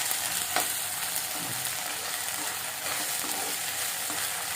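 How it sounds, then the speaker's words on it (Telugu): Ginger garlic paste frying with browned onions in a pan, a dense steady sizzle with a few stirring scrapes, close and continuous, without talk. "ఇప్పుడు అల్లం వెల్లిగడ్డ పేస్ట్ వేసుకుంటున్నాం."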